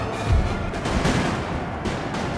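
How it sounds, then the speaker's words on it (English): Musket volley fire in the video game Napoleon: Total War, a cluster of muffled distant gunshots and low booms rippling across the battlefield, moderately loud and irregular, with no voices. "I'm just going to have them shoot."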